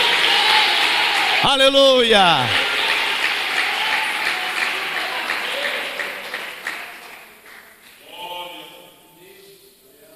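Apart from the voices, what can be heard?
church congregation applauding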